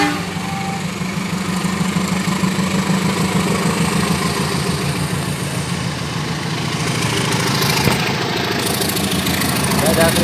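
A passing passenger train on the Penataran line makes a steady, loud rumbling engine roar that fills the whole stretch, with children and adults chattering faintly over it.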